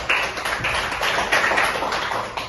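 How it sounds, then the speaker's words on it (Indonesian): Students in a classroom clapping together, a dense patter of hand claps that holds fairly steady and moderately loud for a few seconds without voices. "Tepuk tangan buat kita semua dulu."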